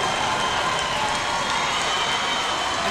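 Crowd applause at a high school boys varsity basketball game, Michigan City Wolves versus LaPorte Slicers, a dense continuous roar of clapping and cheering from a full gym.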